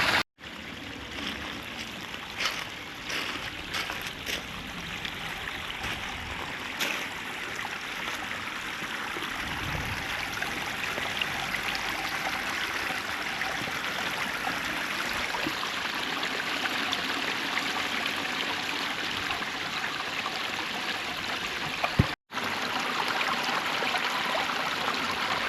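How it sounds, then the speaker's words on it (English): A rebuilt garden waterfall in Hertfordshire pours in streams over rocks, a steady close rushing and splashing that runs on without a break and with no voices. "Lovely streams shooting off the rocks."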